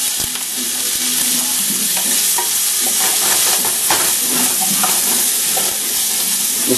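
Garlic and onions fry in oil in a pan, a loud, steady sizzle and hiss broken by scattered scraping stir strokes, close and continuous with no talk.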